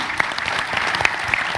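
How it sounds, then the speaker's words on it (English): A crowd at a TwitchCon 2017 panel applauds steadily, dense overlapping claps forming a continuous wash of sound with a few sharper individual claps standing out. "this round of applause is for the devs"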